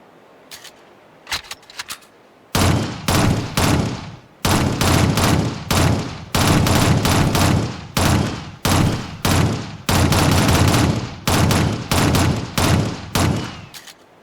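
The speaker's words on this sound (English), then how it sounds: "This time fire in short bursts." Automatic weapon in the Shadowrun video game fires in repeated short bursts, about a dozen loud, close volleys with brief gaps between them, after a few faint clicks at the start.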